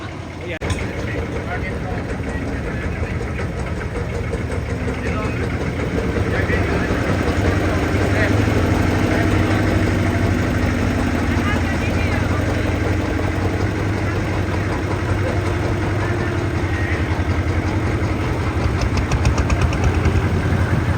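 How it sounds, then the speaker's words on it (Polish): A motorboat engine drones steadily at mid pitch throughout, loud and close, on the Mekong Delta in Vietnam, with faint voices and water noise mixed underneath. "I teraz mnie nie będzie słychać. Wracamy łódką na dużą łódkę."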